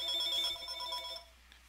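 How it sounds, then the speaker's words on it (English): A telephone rings with a bright, warbling electronic tone that fades out after about a second, fairly quiet and alone in an indoor room. "My phone is ringing."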